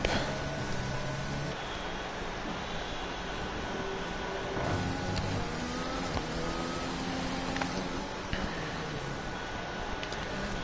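Onboard engine drone of an F3 race car in a racing video game at the Hungary circuit, a steady sustained whine with harmonic shifts as the revs rise and fall through gear changes, continuous and fairly loud throughout with no talking.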